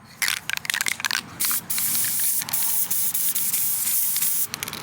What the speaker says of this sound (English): if I take this glue and I spray it over the wings